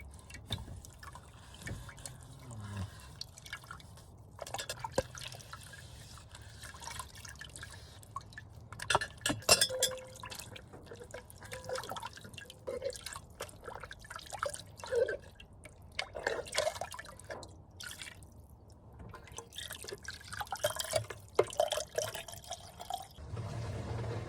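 Dishwater drains from a small sink in a camper van after washing dishes, a steady close gurgle and trickle with scattered drips and clinks over about twenty seconds, with no voices.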